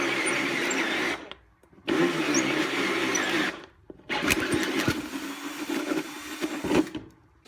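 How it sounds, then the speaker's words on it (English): A power tool bores a 50mm hole in the bottom of a wooden box for a router table, running in loud, steady whining bursts that stop briefly twice before resuming. "I cut a 50mm hole in the bottom of the box"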